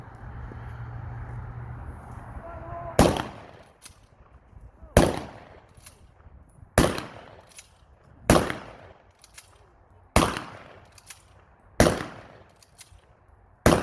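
Reenactors' black-powder guns fire at a historical march-through-time event, roughly a dozen sharp, loud reports evenly spaced about two seconds apart, each trailing off in a short echo, with a low rumble before the first.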